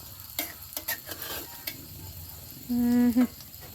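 Eggs frying in a pan with fermented pork sausage: a steady close sizzle with scraping and stirring clatter, followed by a brief loud electronic beep.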